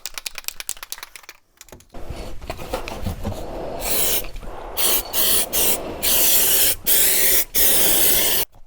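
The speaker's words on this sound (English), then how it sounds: "So what I need to do is I need to spray it with some adhesive first of all." An aerosol can of adhesive hisses in a series of loud, close bursts, several short sprays separated by brief gaps, after some light rustling at the start, while installing a headliner in a 1974 VW Beetle.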